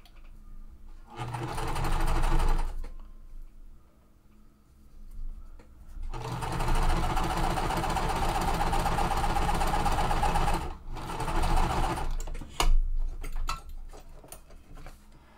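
Sewing machine piecing quilt fabric in bursts, a short run of fast stitching followed by a long steady run of about five seconds and then a few briefer bursts, close and clear with pauses between.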